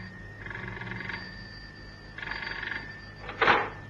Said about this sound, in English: Cannon had hardly put the phone down in the house in Sloane Street when it rang.